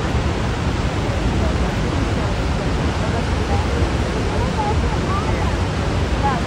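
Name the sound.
Niagara Falls waterfall roaring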